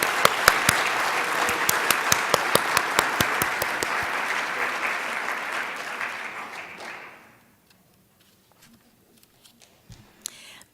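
An audience at a school board meeting applauds two students, steady clapping with a few sharp individual claps that fades out after about seven seconds, followed by quiet room noise and a stray knock.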